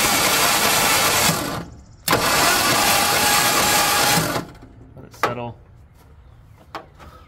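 Engine of an abandoned Ford F350 U-Haul rental truck cranking over: loud, dense churning that runs for over a second, breaks off briefly, then grinds on for about two more seconds before stopping. A few faint knocks and clicks follow.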